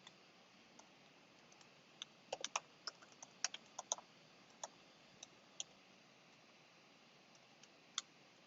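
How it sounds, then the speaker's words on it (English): Typing on a computer keyboard during a Typing.com coding lesson: faint, irregular key clicks, sometimes in quick clusters and sometimes singly, against quiet room tone. "Now we have to start typing."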